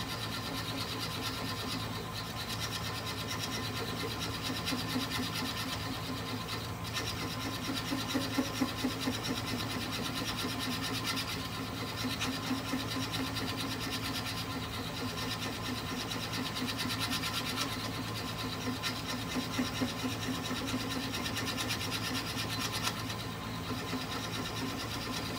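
A wood lathe spins a 10 1/4 inch apple wood bowl at about 400 rpm, the motor droning steadily while a tool scrapes and rasps against the wood in uneven passes.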